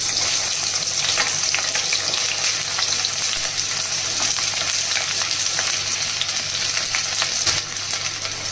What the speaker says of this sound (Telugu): ఉల్లిపాయలు, పచ్చిమిరపకాయలు వేసుకుందాము.